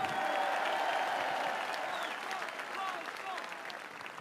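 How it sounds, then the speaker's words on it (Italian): A large audience at a Tsunami Tour rally in Rome claps loudly and continuously, the ovation gradually easing, with voices and cheers mixed into the crowd noise. "Fausto, facciamogli un grande applauso anche a lui"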